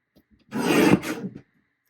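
A paper trimmer slicing a strip of scrapbook paper, one brief close scraping swipe of under a second, alone in a quiet room.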